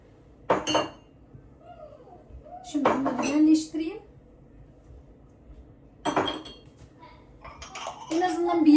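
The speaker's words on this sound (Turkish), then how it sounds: "Bulaşıklarımızı yerleştirelim." Dishes and cutlery being put away after dinner in a home kitchen: bursts of clinking plates and rattling silverware in separate clusters, with a person talking between them.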